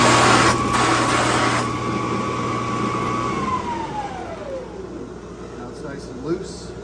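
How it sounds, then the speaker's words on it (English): A buffing wheel used to restore a 1950 Olds Ambassador trumpet and cornet is raked clean as it spins, giving a steady whirring hiss. The motor's whine then falls away as the wheel coasts down, with a small knock near the end. "Take our wheel and just give it a quick rake."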